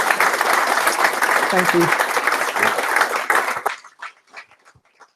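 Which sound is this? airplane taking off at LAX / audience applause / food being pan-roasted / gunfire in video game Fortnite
audience applause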